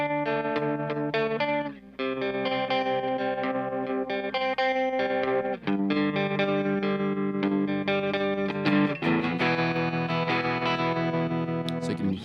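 Electric guitar chords played through a Strymon Flint tremolo pedal set to a choppy square-wave tremolo, loud and sustained with hard rhythmic cuts in volume, alone with no talking.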